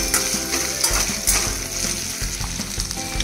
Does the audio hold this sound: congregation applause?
no